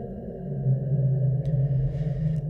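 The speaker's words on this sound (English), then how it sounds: "It sounds funny because it's a delay. There's a comb filter effect going on in there." Two slightly offset Bezier curve audio outputs combine like a delay, giving a hollow comb-filtered drone with a low steady hum and faint clicks, sustained and alone.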